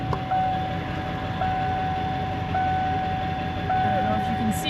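A truck reverses at a truck stop, its backup alarm sounding a clear, evenly spaced run of four beeps over low engine rumble, with faint voices in the background.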